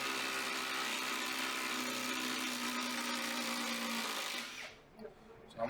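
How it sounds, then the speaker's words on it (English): A Ryobi battery-powered impact driver labours as it drives into wood close to a knot, giving a steady, loud whirring drone for several seconds before it cuts out and leaves a short quiet gap. "Ryobi is struggling a little on it, maybe because I'm close to a knot."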